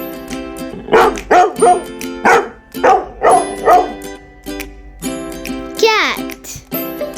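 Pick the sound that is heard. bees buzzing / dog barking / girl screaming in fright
dog barking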